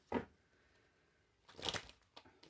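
A deck of tarot cards is shuffled by hand in a quiet room, with a short riffle burst at the start and a second, longer scrape of cards a moment later, soft and close.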